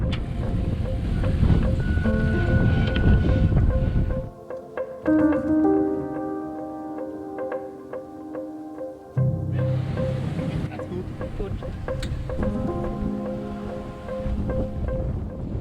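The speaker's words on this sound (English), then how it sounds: "The afternoon inflow winds, along with ocean swell rolling into Barkley Sound, made for quite the ride." Sailing upwind into afternoon inflow winds and rolling ocean swell in Barkley Sound off the Broken Group Islands, loud continuous wind roar and rushing water, briefly dropping away to a quieter interval with tonal hum before the wind returns.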